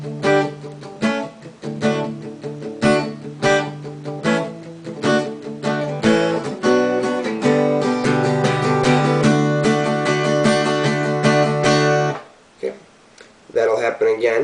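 Electric guitar playing a palm-muted verse part that leads into a run of quickly changing strummed chords, steady and loud, ending in a brief pause and a few scattered notes.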